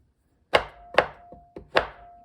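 A knife chops a block of chocolate on a cutting board in four sharp, close strokes spaced about half a second apart, with no talking.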